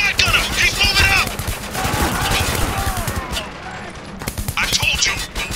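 Loud, rapid automatic gunfire rattles in bursts during a Spec Ops The Line firefight, with voices shouting between and over the shots.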